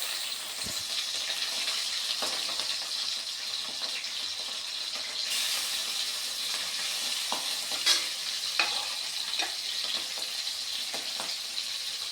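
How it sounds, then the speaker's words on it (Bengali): Bhagna fish pieces coated in turmeric and salt sizzle steadily in hot oil, a continuous bright hiss with occasional louder pops and stirring clinks, no voices. "এখন আমি এগুলোকে একটুখানি তেলে হালকা ভেজে নেব।"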